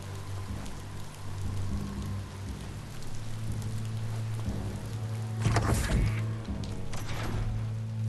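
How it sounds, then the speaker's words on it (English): Steady rainfall in Biomutant on PS5, a constant hiss of drops on surfaces under a low droning hum, with a brief louder clatter of heavier drops near the end. "It's starting to rain."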